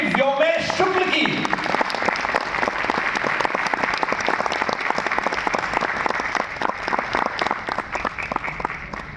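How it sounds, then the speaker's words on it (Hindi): A large audience in an auditorium at the Uttar Pradesh Sangeet Natak Academy breaks into sustained, dense applause that fills the hall, following a brief spoken line at the start. "आपकी जोरदार तालियों के बीच श्री व्योमेश शुक्ल की।"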